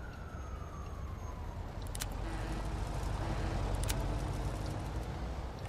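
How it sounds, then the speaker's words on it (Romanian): Police siren wailing in the Mafia 2 video game, a steady rising and falling tone at moderate distance over low engine rumble, with no talk. "Aoleu, aud poliția iar."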